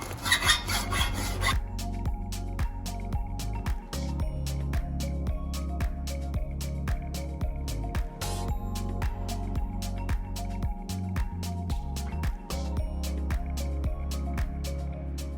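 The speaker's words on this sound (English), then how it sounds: "File only cuts one way." Repeated rasping strokes of a metal file scrape in a steady back-and-forth rhythm, close and fairly loud, with no talking.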